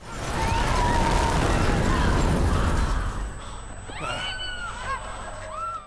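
A loud, sustained roaring hotel explosion with heavy low rumble, then it thins into scattered debris and crackling noise with faint high whistling tones.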